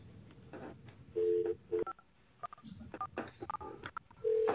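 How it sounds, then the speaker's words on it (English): Telephone keypad tones beep in short bursts, several in a rapid cluster and others spaced apart, as someone dials during a conference call, over faint background noise on the line. "we're hearing somebody dial a phone"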